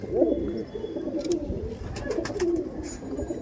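Punjabi pigeons cooing in the open, low throaty coos repeating close by over a bed of ambient noise, with faint higher chirps from other birds.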